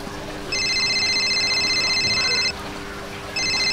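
A telephone rings with repeated electronic tone bursts, one long burst of about two seconds, then a pause, then another starting, over a low steady room hum with no talking.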